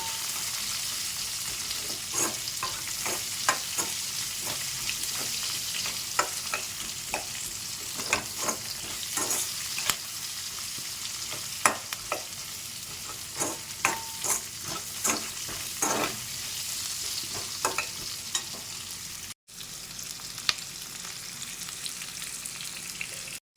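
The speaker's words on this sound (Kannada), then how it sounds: "ಅದು ಸ್ವಲ್ಪ ಚೆನ್ನಾಗಿ ಫ್ರೈ ಆಗಲಿ ಈರುಳ್ಳಿನೂ." Onions fry in a pan for a potato rice dish, giving a constant loud sizzle. Frequent clicks and scrapes of stirring break through the sizzle.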